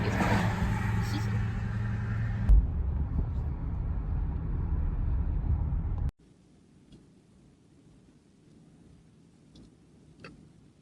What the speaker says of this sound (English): I'm in traffic right now.